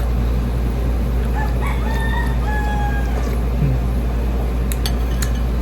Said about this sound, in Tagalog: Akala ko kinakain ko na yung manok, tumitilaw pa dun.